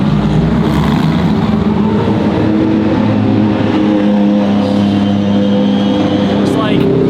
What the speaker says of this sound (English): GT cars and the hypercars are all going out currently